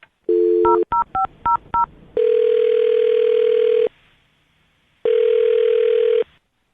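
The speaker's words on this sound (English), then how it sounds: "I'm dialing her phone number right now." A phone line tone, then a quick series of keypad beeps, followed by two long steady dial tones separated by a short silence. Loud and close, no talking.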